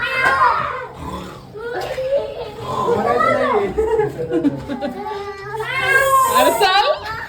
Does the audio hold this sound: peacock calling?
yes